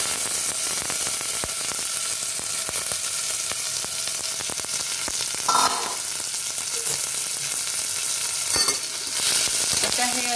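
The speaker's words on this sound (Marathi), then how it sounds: "असे तांदूळ परतायचे" Whole basmati rice stir-fried in a pan with cloves and cardamom gives a steady, close sizzle throughout, with scraping stir strokes and a couple of louder clatters near the middle and end.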